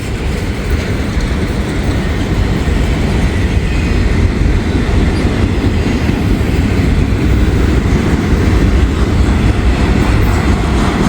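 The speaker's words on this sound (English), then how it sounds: "A long train here." A loud, steady rumble and clatter of a long freight train with loaded auto racks rolling past close by, with continuous wheel noise and no pause throughout.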